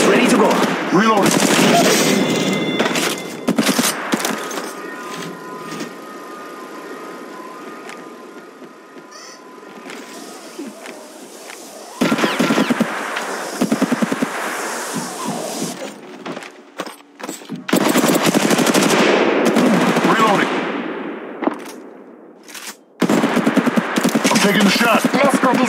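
Bursts of rapid automatic gunfire ring out in an Apex Legends Mobile match, loud clattering volleys separated by quieter gaps, with in-game voice callouts in between.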